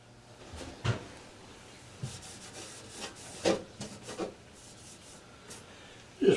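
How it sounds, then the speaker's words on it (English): Cobwebs and dust being wiped out of a 2021 Carrier gas furnace, giving soft scattered rubbing and brushing sounds with a few sharper knocks and scrapes against the cabinet, close by and fairly quiet. "Just wiping the cobwebs out a little bit."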